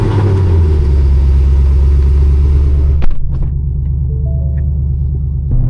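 A straight-piped 10-speed Mustang GT's engine runs loud and close, a deep steady rumble at idle with a sharp bark partway through before settling back into a throbbing idle.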